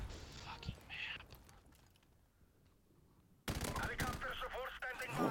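Light machine gun fire in Call of Duty 4 Remastered: an early burst and a few scattered shots, a quiet stretch, then a loud, dense run of automatic fire mixed with battle noise, close up.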